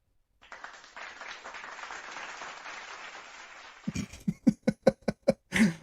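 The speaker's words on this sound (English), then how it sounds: "You get applause for that one" During a solo live stream, a soft hiss of applause-like noise is followed by a run of sharp, close hand claps in a quick, uneven rhythm, ending with a longer burst.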